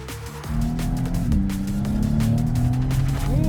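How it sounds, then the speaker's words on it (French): A Maserati MC20 V6 engine revs high and steady toward 7800 rpm, its tone rising and holding, loud and close with a brief dip midway. "Le son du moteur, c'est un petit peu décevant."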